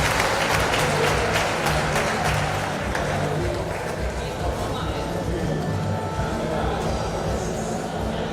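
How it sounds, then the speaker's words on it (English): A large crowd claps and cheers steadily throughout at the Women's European Championship 2025 final medal ceremony, with a loud announcer-style voice talking over the applause. "Come on, everyone, big applause, please."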